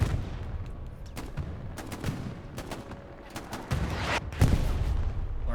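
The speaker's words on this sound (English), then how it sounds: "Artillery here for EG striking this northern outpost as well." Artillery shells striking a northern outpost on the Stalingrad map in Hell Let Loose, heard as a steady run of booms and gunfire crackle with heavier thumps building toward the end, a voice faintly under it.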